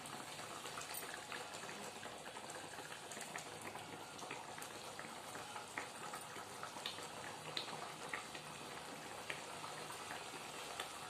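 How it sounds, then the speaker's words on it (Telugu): Spinach mix bubbling in a boiling pot of water on the stove, a steady busy simmer of hissing, gurgling bubbles that holds fairly loud throughout with no talk. "ఉడుకుతుంది కదా, పాలకూర మిక్స్ పట్టుకున్నాం కదా, ఇది వేస్తున్నా."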